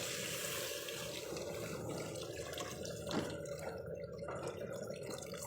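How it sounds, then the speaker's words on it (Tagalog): A bucket of water poured into a cooking pot of pork for sinigang, a steady, soft rushing splash with a faint bubbling sound and a slight surge partway through, low in level. "So, ilagay na natin ang isang timbang tubig."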